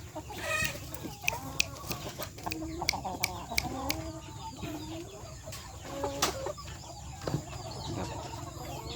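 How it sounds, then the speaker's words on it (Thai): Young chickens in a home coop during the rainy season, clucking and chattering repeatedly at close range, with sharp calls over a busy farmyard background and no speech. "ไก่เยี่ยครับตัวนี้ไก่เยี่ย"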